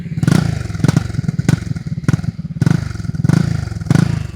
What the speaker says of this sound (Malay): Exhaust ni bunyi dia tak derah.